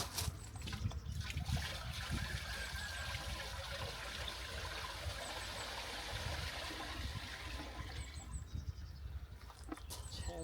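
Water pours steadily and smoothly from a turned bottle, a continuous splashing trickle with no glugging, fading slightly near the end.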